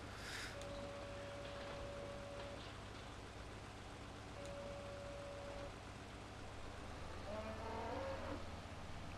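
A cow moos a few times at a distance over steady low background noise on a farm, with a couple of electronic baler beep tones sounding in between.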